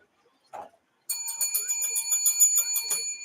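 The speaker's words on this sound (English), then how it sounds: "we're bringing back the bells" Bells rung during a live wrestling watch-along stream, a bright ringing run of metallic tones that starts abruptly after a brief short sound and carries on steadily, fairly loud and alone.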